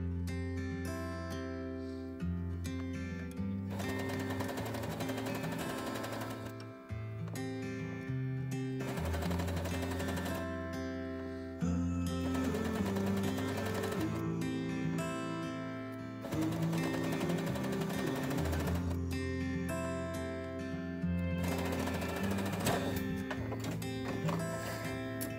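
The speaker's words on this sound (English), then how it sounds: "I'm ready to do my first batch of chain piecing" A sewing machine chain pieces quilt pieces in rapid, close, whirring runs of stitching that start and stop in several bursts, separated by short pauses.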